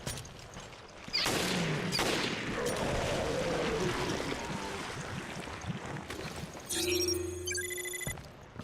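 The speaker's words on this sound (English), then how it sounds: "I swear someone's shooting guns." Sharp gunshots crack out in Resident Evil: Revelations, mixed into a dense, continuous wash of game noise with a burst of bright tonal effects near the end.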